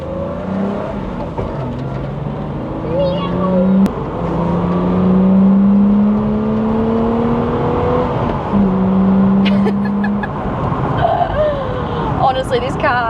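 A 1982 BMW E21 3 Series with its M20B25 inline-six pulls through the gears, engine tone climbing and dropping between shifts under a loud, rumbling cabin, with someone talking over much of it.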